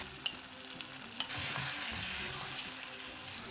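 Chopped onion and green chili frying in a pan with salt, a steady close sizzle with a few scraping stirs near the start, then a louder, denser crackle that holds to the end.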